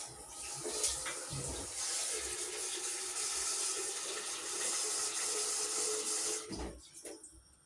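Water is poured onto chickpeas in a steady, soft splashing stream that runs continuously at close range, then tapers off and stops near the end.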